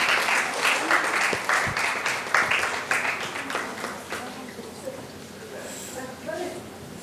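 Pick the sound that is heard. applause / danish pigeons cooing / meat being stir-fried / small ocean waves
applause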